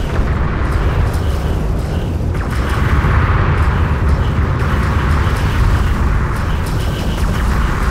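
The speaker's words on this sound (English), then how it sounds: "Enemy airstrike inbound." Airstrike explosions in Homeworld: Deserts of Kharak, a heavy sustained roar of blasts and rumbling destruction, loud and continuous with swelling bursts layered over one another.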